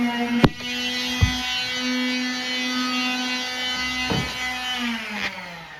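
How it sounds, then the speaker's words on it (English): Sanding machine running indoors during a Japanese akiya house renovation, a steady tonal hum with overtones that holds throughout, punctuated by a few sharp knocks. "They're just sanding."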